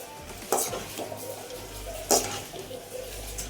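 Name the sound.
stirring sparrow curry frying in a kadai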